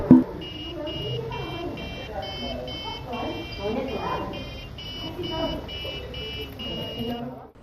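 An RFID door access lock's buzzer signals a successful entry with a fast, steady run of sharp electronic beeps lasting several seconds, heard over room noise and a murmur of voices.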